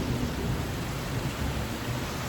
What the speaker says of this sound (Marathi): आवाज बघा विजांचा एकदम असा कडाक्याने पाऊस आला